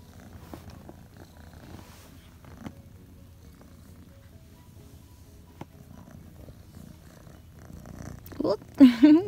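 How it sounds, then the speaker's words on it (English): A cat purrs steadily at close range in a quiet room, a low continuous rumble that swells louder near the end with a brief vocal sound. "I think this is the loudest I've ever heard him purring."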